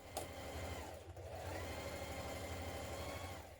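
A sewing machine stitches a thick jacket seam with a continuous, fast, rhythmic mechanical chatter and low motor hum, close and steady throughout after a brief click at the start.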